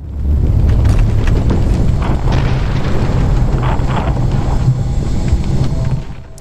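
A video game airplane roars with a loud, continuous rumbling drone that holds steady for several seconds before easing off at the very end.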